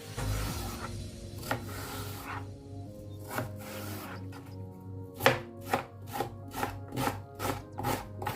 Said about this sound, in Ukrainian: Чистимо його та будемо нарізати на квадратики